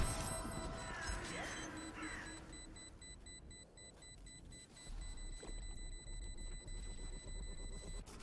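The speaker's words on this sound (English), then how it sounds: "Beep, beep, beep." Valorant match audio with a steady, repeated electronic beeping pulse running throughout, faint and evenly spaced, over a busy game background.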